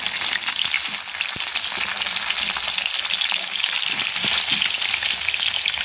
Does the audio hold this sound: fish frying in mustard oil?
yes